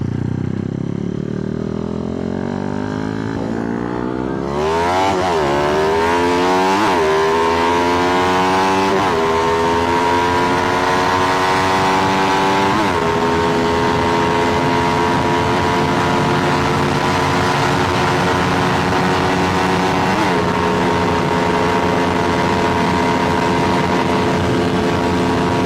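A Rusi Raider motorcycle engine being pushed hard in a race: a loud, buzzy whine that climbs in pitch through repeated gear changes, each shift giving a brief dip before it rises again, running on and on with no talk.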